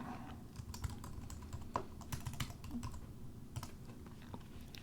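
Typing on a computer keyboard to enter a folder name, a steady run of light clicking keystrokes with brief pauses, close and moderately quiet over faint room hum.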